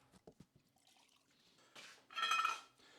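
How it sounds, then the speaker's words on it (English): MAHO CNC spindle parts are washed in clean solvent, with quiet sloshing of liquid and faint clinks of metal parts, swelling into a louder splash near the end. "So I'll put those back in with some clean solvent, give them a fine wash."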